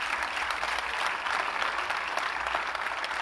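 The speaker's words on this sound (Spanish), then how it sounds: "un aplauso para ellos, por favor, muchas gracias." Sustained audience applause fills a hall at a football summit, steady, dense clapping from a large crowd with no voices standing out.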